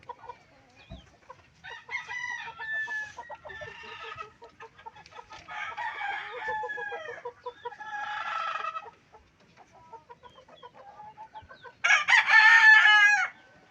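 Chickens, including hens, cluck and a rooster crows several times in bursts, with a loud crow near the end, no talking.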